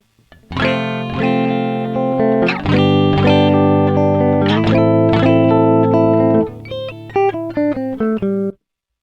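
Dry, unprocessed electric guitar played into a Line 6 Pod Go recording setup, a clean sequence of chords and arpeggiated notes ringing out alone, ending in a run of short picked notes.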